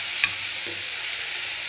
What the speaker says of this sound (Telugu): పుదీనా కూడా వేసుకోవాలి. తర్వాత కలపాలి బాగా.